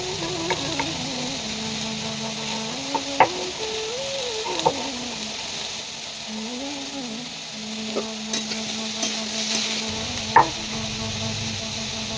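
A curry of flat beans, potato and eggplant sizzles steadily in a pan while being stirred, with a few sharp scrapes and clicks over the constant frying hiss.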